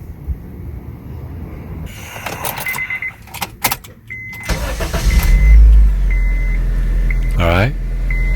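A car engine cranks and catches while a Foxpeed G29 12V jump starter is connected, settling into a loud steady idle after brief clicks and handling noises, with a voice heard earlier.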